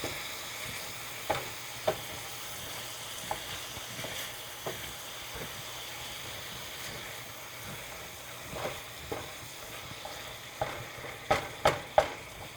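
Ground meat for goulash sizzles softly and steadily in a pan, punctuated by sharp scraping taps of a utensil chopping it up, the taps clustering more densely toward the end.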